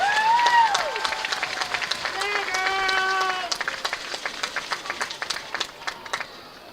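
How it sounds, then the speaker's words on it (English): Crowd applauding the varsity cheer squad at a school football field event, broad clapping and cheering at first with whistling tones, then settling into a rhythmic run of claps, fairly distant and moderately loud. "Let's have a big round of applause for your varsity cheer squad."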